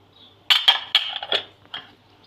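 Sliced peppers and onions dropped onto a metal baking tray for oven-baked chicken with vegetables, a few quick clinks and taps close by, then a softer final one.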